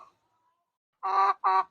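Chickens in a backyard coop in Kerala give two short, close clucks in quick succession after a near-silent pause.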